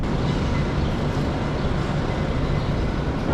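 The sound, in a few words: Washington DC Metro train passing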